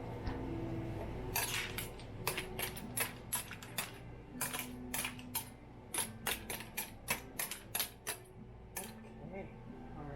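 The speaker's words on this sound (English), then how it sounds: "let's stir it up all the way and get some of the tomatoes in there" A spoon stirs clams and tomatoes in a cooking pot, producing a run of sharp metallic clinks and rattling shell knocks in an uneven rhythm, fairly close and quiet, over a low background hum.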